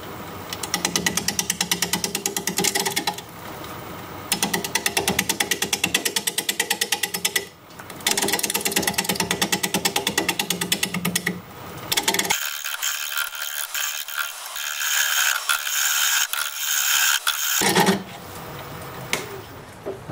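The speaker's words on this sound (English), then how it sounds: "we're going to be turning at 550 RPM, 5/8 inch bowl gouge" A wooden bowl turns on a lathe at 550 RPM under a 5/8 inch bowl gouge, giving loud, rapid, rattling chatter from cutting in long continuous runs with brief pauses between passes.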